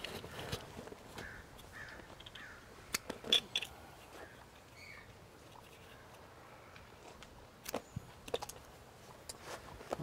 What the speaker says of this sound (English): So we're going to cut off these quick connects